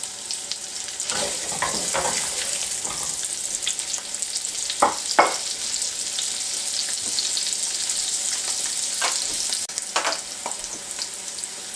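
Seasoned scallops laid into a hot pan sear with a steady, bright sizzle, punctuated by a few clinks and shuffles as pieces are placed, close and continuous without speech.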